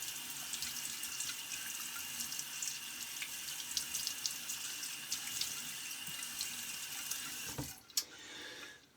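Water runs steadily from a bathroom tap as a folding razor is rinsed, a close hissing stream that stops abruptly near the end.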